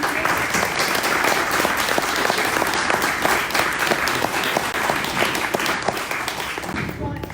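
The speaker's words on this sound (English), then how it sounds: "join me in a round of applause for both of our candidates" An audience at a debate applauds both candidates with sustained, dense clapping from a crowd, loud and steady for several seconds before easing off.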